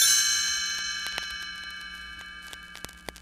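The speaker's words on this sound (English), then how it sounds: "You will know it is time to turn the page when you hear the chimes ring like this." Chimes ring as a page-turn signal, a bright bell tone struck once and left to ring out and slowly fade, with a few faint ticks and taps underneath and no speech.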